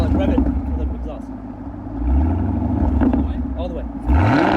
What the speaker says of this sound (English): No, like rev it for the exhaust.